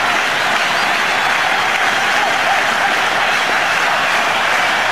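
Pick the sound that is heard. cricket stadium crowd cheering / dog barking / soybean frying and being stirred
cricket stadium crowd cheering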